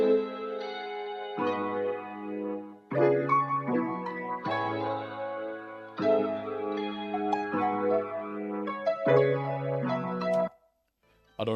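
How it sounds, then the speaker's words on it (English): Simple guitar part played on a Telecaster, clean plucked notes and chords in short phrases with brief gaps between them, close and clear with no talking. "The next sound I added was a guitar. I played it on my Telecaster."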